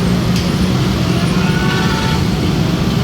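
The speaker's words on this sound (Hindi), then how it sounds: "ये ट्रैफिक जा रही है गुजरांवाला से, सियालकोट से ट्रैफिक आई है" Dense road traffic rolls past near Shahdara, Lahore, a loud continuous roar of buses, trucks and cars close by with no break.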